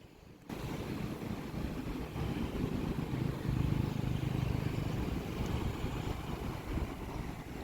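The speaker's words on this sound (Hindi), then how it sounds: "शाम के वक्त समुंदर की लहरों की आवाज़ ही बदल जाती है" Sea waves washing onto the shore at evening in Rabat, Morocco, a steady broad roar of surf with gusty wind noise on the microphone, loud and continuous throughout with no talking.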